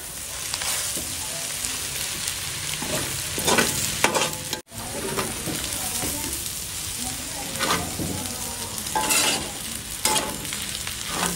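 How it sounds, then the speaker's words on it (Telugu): A spatula stirs egg Maggi noodles with coriander and mint in a hot kadai just after the stove is switched off: close, repeated scraping strokes over a light sizzle, with brief pauses between turns. "ఇక మీరు దీన్ని ఒక తిప్పుడు తిప్పడం."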